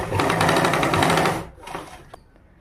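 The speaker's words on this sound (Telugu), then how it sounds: "ఇలా తిప్పుకున్న తర్వాత ఇలా ఒక స్టిచ్ అనేది వేసుకోవాలి." A sewing machine runs steadily while stitching the front piece of a blouse, a loud continuous whirr that stops abruptly partway through, followed by a few faint handling clicks.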